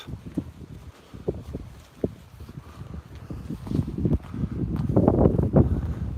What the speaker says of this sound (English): Very windy though, guys.